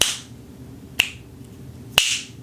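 Three crisp left-hand finger snaps crack out about a second apart over a quiet room, each sharp and close with a short decay.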